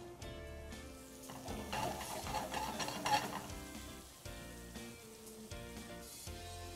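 Pounded pork with green peppercorns sizzles and fries steadily in a pan, a soft, even crackle with light stirring and scraping of utensils, fairly quiet and close, with no voices.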